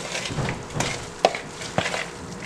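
Bajan all-purpose seasoning is stirred with lime juice in a bowl, giving a few wet scraping and clinking strokes up close with sharp knocks spaced between softer swishes.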